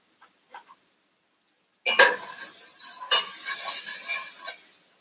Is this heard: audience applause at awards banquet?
no